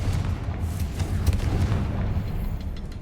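A Confringo blasting spell detonates in Hogwarts Legacy, a deep, rumbling boom that rolls on as a sustained low roar with scattered crackles, loud and close.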